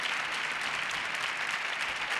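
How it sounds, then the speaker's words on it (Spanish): A crowd claps and cheers continuously at a magic show, dense steady applause filling the whole moment. "¡Fuerte aplauso!"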